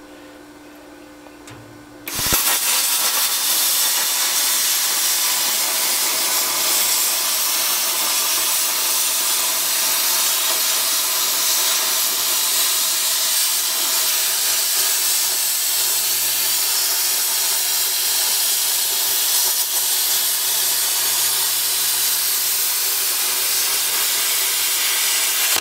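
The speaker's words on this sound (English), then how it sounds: "I'm wondering if I can't take the air chisel and chisel that off of there," Pneumatic air chisel hammering at the rivets on an old stainless steel dishwasher being scrapped, a loud continuous high-pitched hiss and rattle that starts abruptly after a couple of seconds of quiet and runs steadily to the end.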